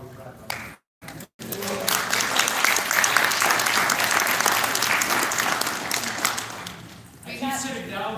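A sales convention audience breaks into loud, sustained applause after a brief gap of silence, the clapping swelling and then fading near the end, with a speaking voice over parts of it.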